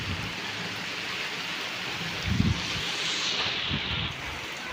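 Steady rain falls with a constant hiss, a few louder thumps of wind or drops mixed in, no voices.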